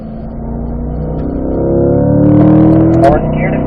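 A Chevrolet C8 Corvette pulls hard in third gear on a race track, engine note climbing steadily in pitch and loudness before easing off, with a voice talking over it.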